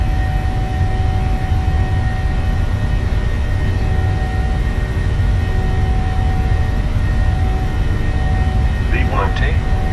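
Steady, loud jet engine roar of a PMDG 737-700 at takeoff power in Microsoft Flight Simulator, a constant broadband rumble with faint tonal whine, and a brief chirpy sound near the end.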